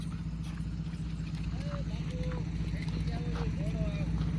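Horse hooves clip-clopping steadily at close range on hard ground, a quick regular beat running throughout beneath people talking.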